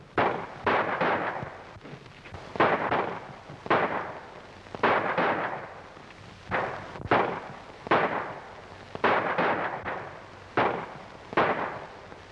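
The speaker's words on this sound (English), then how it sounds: "With the sounds of the shooting outside, I'll say it won't, too." Rapid gunfire outdoors in a western film scene, a long series of sharp reports in uneven clusters, moderately distant and steady throughout.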